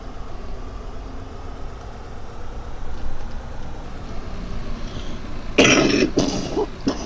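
A woman coughs and clears her throat near the end, a few short harsh bursts over a steady low engine-like rumble in the background.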